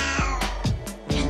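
A hungry house cat meows for food by the cupboard where its food is kept. It gives four or five short, insistent meows in quick succession, loud and close, with no talk.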